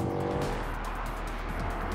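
A 2018 Ford Mustang accelerating hard through a drift, loud sustained engine roar with tires squealing continuously, close and steady throughout.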